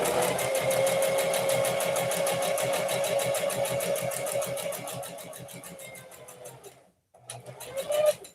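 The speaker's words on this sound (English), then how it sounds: "You want to stitch forward, come back, and go all the way up." Sewing machine stitching fabric, a fast steady mechanical whir with rapid needle clatter that slows and stops briefly before starting again, close by.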